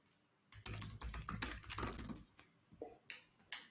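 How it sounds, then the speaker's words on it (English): Quiet typing on a computer keyboard, a cluster of quick clicks after a short silence, then a few scattered separate keystrokes trailing off. "If I write hello content inside,"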